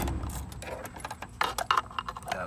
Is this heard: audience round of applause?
no